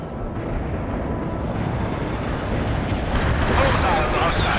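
Cluster bomb explosions in the video game World in Conflict form a dense, continuous roaring rumble that swells toward the end.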